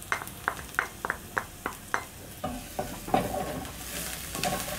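Fresh garlic sizzles steadily in a hot pan while a utensil scrapes and stirs in a quick, regular rhythm, close and fairly loud.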